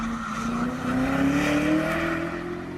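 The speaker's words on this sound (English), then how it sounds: "You'll just get tyre spin." A Jaguar XKR with sport and dynamic modes both selected spins its tyres, giving a loud sustained squeal with a rising pitched whine over the engine roar.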